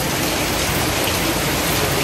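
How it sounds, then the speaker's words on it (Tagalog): Heavy typhoon rain pours down in a dense, steady roar with no letup, loud and close throughout. "grabe yung ulan. Ang lakas-lakas at kanina pa ito madaling araw nag-umpisa."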